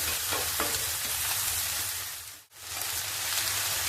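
Two onions frying in a pan for an okra and cucumber curry, a close, steady crackling sizzle with light stirring, broken by one short dip in the middle before carrying on at the same level.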